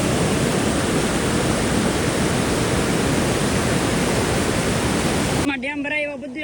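Water overflows Shetrunji Dam and pours over the dam wall as a loud, steady roar for several seconds, then drops away as a voice begins speaking near the end.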